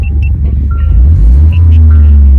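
Low, steady engine rumble heard from inside a 2023 Toyota GR Corolla Core Edition, with a slight rise in pitch partway through; no talking.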